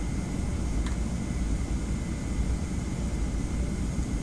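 A Boeing 717 in the Prepar3D flight simulator gives a steady, even engine roar and airflow hiss, a constant broadband drone with no voices.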